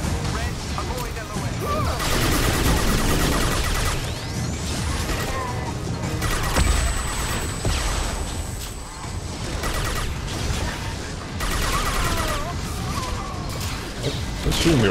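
Rockets and gunfire in Mass Effect 2 combat: continuous dense crashes, blasts and whooshing impacts over nearly fifteen seconds, loud and chaotic, with speech mixed in.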